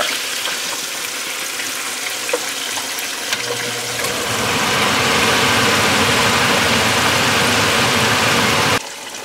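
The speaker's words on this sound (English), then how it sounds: "I'm going to drop these and then turn this blower on." Kitchen exhaust blower roaring steadily while fish fries in hot oil, a loud broadband rush that swells louder partway through and holds, then drops off near the end, with no voices.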